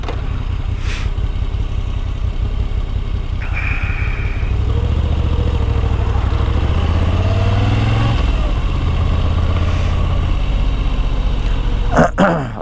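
A motorcycle rides a winter road near a Rhine bridge on the border, its engine droning loudly and steadily close by, rising in pitch as it accelerates partway through, with a sharp clatter at the end.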